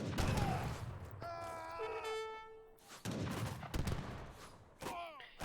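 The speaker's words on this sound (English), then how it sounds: "2 Abus guns popping from Kevin" Abus guns fire in a strategy video game match with bursts of close, rapid popping gunfire, broken by a short tonal game sound and a voice in the middle.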